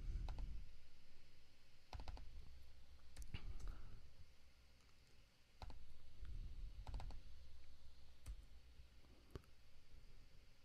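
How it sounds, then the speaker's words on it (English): Typing a value into a field on a computer keyboard: a few scattered key clicks close by, sparse and irregular, alongside low murmuring voice sounds and background hum. "So I'll just type in 0 here."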